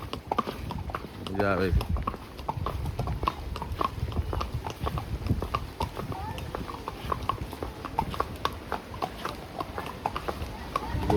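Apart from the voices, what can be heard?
horse hooves clip-clop during horse ride in Matheran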